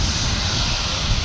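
Boeing 757 airliner at Manchester Airport, a loud steady engine roar with broad hissing noise, heard briefly and close without talking.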